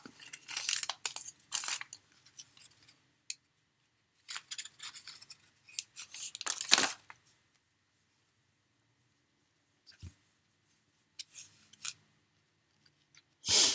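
Small scissors snip at a paper bow on an Easter bunny card, making several short, crisp bursts of cutting and paper rustle separated by silent gaps, close and fairly quiet.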